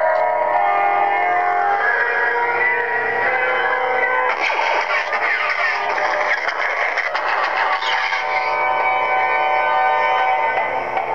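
A lightsaber fitted with an Igniter2-R2 sound board, running a TFU2 sound font, gives off a steady loud electronic hum that swells and crackles in the middle of the clip. There is no shroud on the hilt and nobody speaks.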